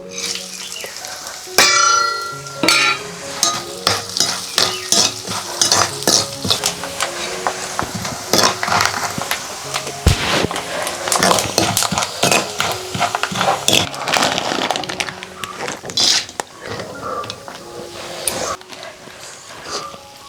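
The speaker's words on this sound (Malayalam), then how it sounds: "കുറച്ച് നെയ്യ് ആദ്യം ചട്ടിയിലോട്ട് ഒഴിക്കട്ടെ തേങ്ങാക്കൊത്തിടാം" Coconut pieces fry in ghee in a pan for payasam. A steady sizzle runs under constant, close stirring, with busy metallic scraping and clinking against the pan.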